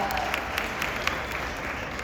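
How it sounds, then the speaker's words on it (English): Steady applause from a fan convention panel audience, a continuous wash of clapping at moderate volume with no pauses. "I do not want to cut off applause."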